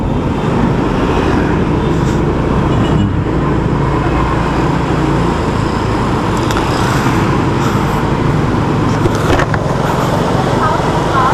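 Heavy road traffic in a jam fills the scene with a loud, continuous roar of engines and tyres, steady from start to finish, while faint voices come and go beneath it.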